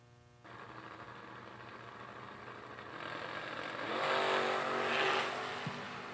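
Blue Camaro launching down a drag strip, a loud engine roar swelling sharply as it pulls away, with a second car's engine audible alongside and no talking.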